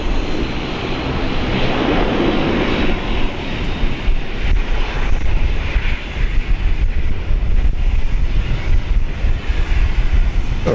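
A QantasLink Embraer airliner roars at Brisbane airport, a loud, continuous broadband engine rumble that holds steady throughout with no voices.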